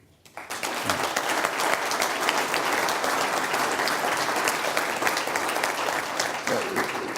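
An audience at a community presentation about Enid bursts into applause and keeps clapping steadily and loudly, a dense, even wash of many hands that holds without letting up.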